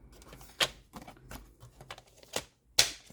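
A paper trimmer cuts cardstock in a few sharp, close slicing strokes, each a short crisp swipe, with quieter shuffling and handling between them and no talk.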